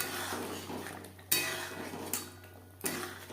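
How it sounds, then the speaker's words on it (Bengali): Fried eggs being stirred into curry gravy in a pan, with a few sharp utensil scrapes and clinks against the metal over a low simmer, close and moderately quiet. "গ্রেভির সাথে ডিম বেশ ভালো করে মিক্সড করে দেওয়ার পর 3-4 মিনিট রান্না করে নেব।"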